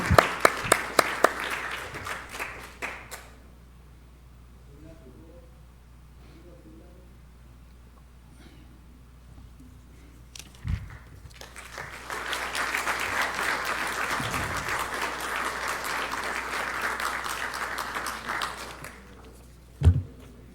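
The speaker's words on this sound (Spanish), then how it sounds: "Aplausos para el maestro José Palomino Manchego." Applause at a medal ceremony honouring Dr. José Palomino Manchego: a short burst of clapping, a quieter gap with faint voices, then a longer, fuller round of sustained applause ending in a sharp knock.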